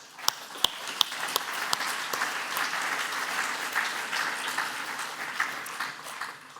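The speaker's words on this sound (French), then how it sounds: "Et je vous propose de les applaudir." Conference attendees at an AFRA colloquium applaud steadily. A few sharp, close claps stand out at the start before the applause settles into a continuous, moderate wash.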